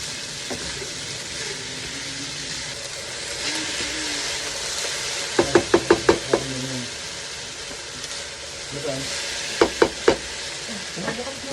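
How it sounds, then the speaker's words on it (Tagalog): Delimundo, two ranch and one garlic and cheese, sautéing in a pan with a steady sizzle and hiss, broken by clusters of sharp clicks and taps from stirring utensils against the pan. "Ang igigisa nga pala natin ay Delimundo"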